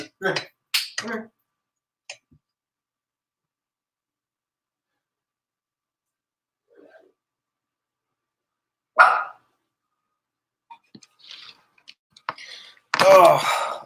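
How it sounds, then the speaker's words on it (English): A pet dog barks in short sharp bursts indoors during a live stream, a few loud barks at the start and a louder cluster near the end, separated by long silences and brief spoken words. "my dog is going off"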